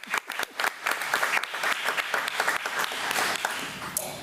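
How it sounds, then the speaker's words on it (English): Applause from a committee meeting audience honoring a technical college representative, steady clapping of many hands that swells and holds at moderate loudness for several seconds, with a few sharper claps at the start. "a round of applause"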